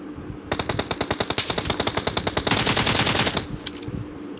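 Rapid automatic gunfire in the battle royale game PUBG on the Erangel map, a loud sustained burst of evenly spaced shots lasting about three seconds before stopping, with no talk over it.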